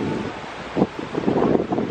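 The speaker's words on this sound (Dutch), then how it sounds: "Horen jullie de wind?" Wind blows outdoors in Florida, a steady broadband rush with a few gusty swells buffeting the microphone, with no talking.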